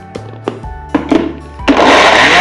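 A kitchen mixer grinder churning roasted coconut, chillies, garlic and rock salt for coconut podi, loud bursts that stop and start a few times before settling into a continuous whirring grind.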